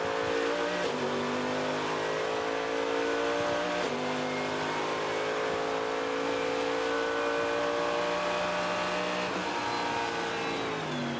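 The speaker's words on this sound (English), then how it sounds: "Sound of race cars at night is something very special" Race cars lapping at night during the Sebring 12 Hours endurance race, engines screaming loud and continuous, rising and falling through gear changes as cars pass close by.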